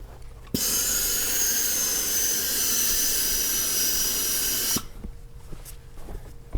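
Hat steamer hissing as a hat crown and brim are shaped, a loud, steady close-up jet of steam that runs for about four seconds and then cuts off, leaving quiet room sound.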